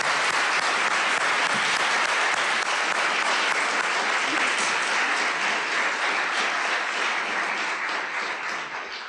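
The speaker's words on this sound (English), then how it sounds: "I ask you guys to join me in just giving a round of applause for our 2 debaters, Father Griffin and Dr. Shook." A debate audience applauds two debaters at the close of an evening event on whether God exists. The clapping is loud, dense and sustained, running steadily for about nine seconds before easing slightly at the end.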